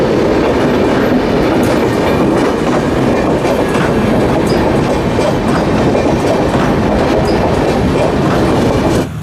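The Amrit Bharat Express runs on rails with a loud, steady rumble and rhythmic clickety-clack of wheels over track joints, heard up close and continuous without voices.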